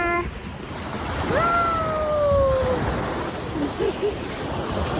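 Surf washes steadily in a broad hiss, with a couple of brief tonal whistle-like calls riding over the water noise.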